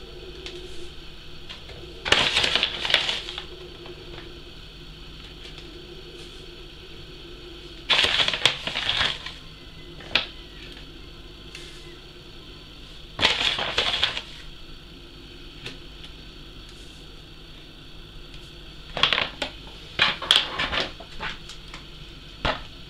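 Potassium nitrate powder is scooped and leveled with a teaspoon, giving four separate bursts of scraping, tapping and rattling, each lasting about a second, with quiet pauses between them.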